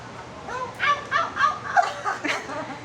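A person playfully imitates a dog barking, a series of about six short voiced yelps in a rhythmic burst, close to the microphone over a low background hum.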